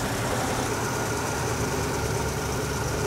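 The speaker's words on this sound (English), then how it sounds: "Now you'll see that the engine's starting to chug a little bit." Steady idle of a car engine fitted with a Holley carburetor just after an idle-screw adjustment, a continuous low rumble with slight uneven chugging, close and constant throughout with no talk.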